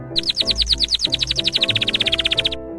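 A canary chirps in a rapid, bright string of repeated tweets that speed into a steady trill, close and clear, used as a sound effect in a children's story about neglected pets.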